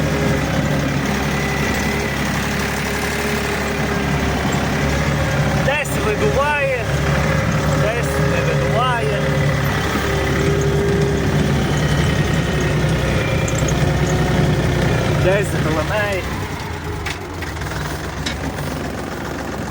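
A Dongfeng 244 tractor engine drones steadily and loudly while ploughing, with a low rumbling hum and occasional knocking, while someone talks intermittently over it.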